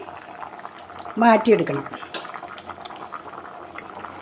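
Tapioca boiling in salted water, a steady bubbling hiss running throughout while a person speaks briefly over it, close and moderate in level.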